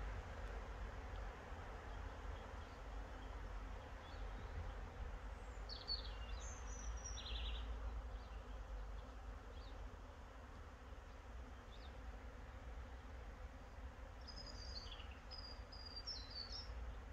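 Honey bees drone and buzz steadily around an opened full beehive colony in a mating apiary during a hive split. A dense, continuous hum holds throughout with a few faint bird chirps now and then.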